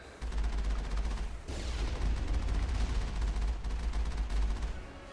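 In the Mass Effect video game, continuous rapid automatic gunfire rattles in a dense fusillade at a Geth outpost, loud and sustained with a brief dip partway through.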